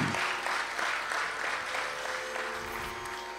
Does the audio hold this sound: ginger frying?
no